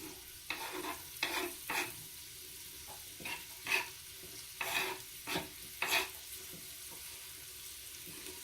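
Vegetables sizzle and fry in a pan while being stirred, with steady frying hiss underneath and a series of louder scraping stirs at irregular intervals, close and moderately quiet, without talk.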